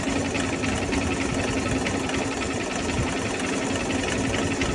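Bajaj Platina motorcycle engine running with a noise fault, a continuous close mechanical chatter and rapid ticking rattle over a steady hum, alone without voices.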